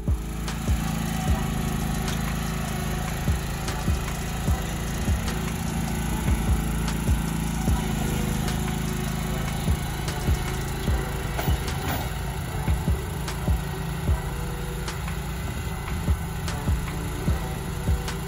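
A Hustler Fastrak SD zero-turn lawn mower engine runs steadily and close, a loud continuous drone with a faint regular ticking pulse throughout and no voices.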